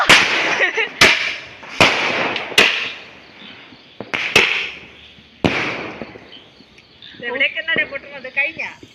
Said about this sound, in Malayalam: അവിടെ വെച്ച വലിയ പടക്കങ്ങൾ.